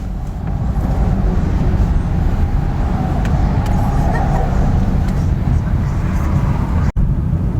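Traffic jam on a road near the Subang border during the Lebaran holiday exodus, with a dense, steady rumble of car and bus engines idling and creeping close by, continuous and loud throughout.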